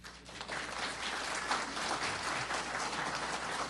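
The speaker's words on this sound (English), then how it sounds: "now you can clap for them." Convention audience applauding in a hall, a full, even wash of many hands clapping that stays steady and fairly loud from start to finish.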